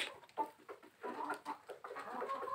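Backyard chickens in a flock give soft, close clucks and murmurs in scattered bursts, fairly quiet with no talking over them.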